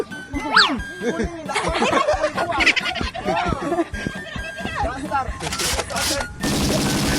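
Gunfire from a shooting video game crackles in rapid bursts and single shots, loud and close, with jingling effects and a dense machine-gun rattle near the end, while people talk excitedly over it.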